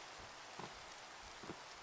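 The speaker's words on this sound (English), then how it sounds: "It's gotta be raining." Rain falls in a video game world, a soft, steady hiss of drops with a couple of faint patters, quiet throughout.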